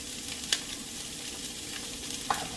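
Spanish sweet onions saute in a hot pan with a constant close sizzle, broken by two brief utensil clinks against the pan.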